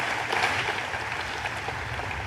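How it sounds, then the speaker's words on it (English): Applause from an audience at an official event fills the space with a steady, even patter of clapping, moderately distant and fairly quiet, with no voices over it. "Kim and Scott, please give a round of applause to these guys"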